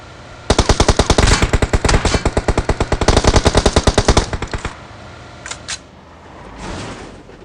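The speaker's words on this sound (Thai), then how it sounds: "พูดยังไม่สิ้นคำเลยเขายิงเราก่อนเลยจังหวะนี้" Sustained automatic gunfire in the PUBG Mobile video game, a rapid burst of loud shots lasting about four seconds, followed by a couple of isolated quieter pops before it fades out.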